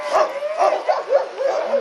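Sled dogs of Siberian breeding in a dog yard in Juneau, Alaska, excited before a run, let out a rapid string of high yelping, whining screams rather than barks, loud and close, one cry after another.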